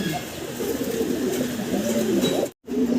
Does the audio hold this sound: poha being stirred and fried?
no